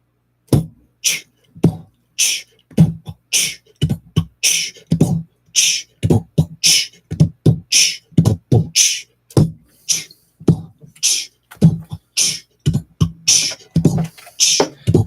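A human voice imitates a drum kit as a beatboxed loop for a live looper, with punchy kick-like thumps and crisp snare and hi-hat clicks in a tight, repeating groove, close and dry with no other sound.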